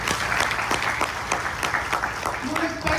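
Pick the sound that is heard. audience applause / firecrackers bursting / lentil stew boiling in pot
audience applause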